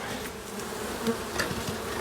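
Honeybees buzzing in a small Miniplus hive during a colony split, a dense, continuous hum close to the microphone with a few louder individual passes, no voices.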